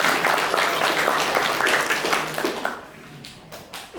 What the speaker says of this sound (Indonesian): Tepuk tangan untuk Bapak Sekda dan Bapak Kepala Sekolah